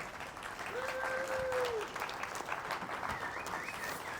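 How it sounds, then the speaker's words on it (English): A room of people gives Tracy a round of applause, a fairly faint but steady patter of clapping with a brief whistle cutting through early on. "the entire room is going to give Tracy a huge round of applause"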